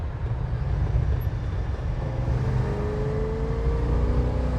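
A 1965 Pontiac GTO engine downshifting to third gear, a continuous low rumble with a rising whine as revs change, heard from inside the car at moderate level.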